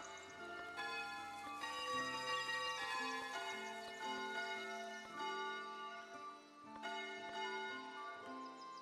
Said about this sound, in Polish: Dzwony i mogę wybrać ton.